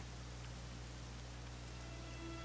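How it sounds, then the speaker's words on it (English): Steady rain hisses in the Dragon Quest video game, a soft, even wash of falling drops with a low constant hum beneath it and no voices. "it was raining like this the last time I ever saw her."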